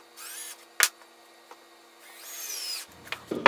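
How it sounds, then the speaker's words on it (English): A power drill drives screws into wood, heard as two short rising whines close by with a sharp click between them and faint handling knocks at the end. "Now let's put a screw in each of them."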